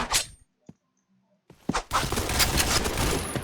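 Gunfire in a tactical shooter video game: a brief burst at the start, a near-silent gap with a faint click, then sustained heavy automatic fire that keeps going to the end.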